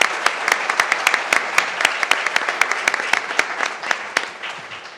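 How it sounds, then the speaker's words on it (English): Applause from attendees at a joint meeting of the Montgomery County and Dayton city commissions: a moderate group clapping with distinct individual claps standing out, steady and fairly close, tapering slightly toward the end. "I think that they deserve a round of applause from us just for the leadership of having done that."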